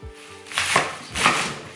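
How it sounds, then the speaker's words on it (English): Two firm knife chops slice the base off winter-harvest stir-fry greens, each a short crunchy cut with a brief pause between, close and clear with no talking. "So the first thing I'm going to do is just chop off a bit of the base."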